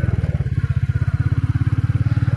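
A motorcycle rides up onto a barrage at Jedarpalayam Dam, its engine throbbing loud and close in a rapid, even pulsing rhythm throughout.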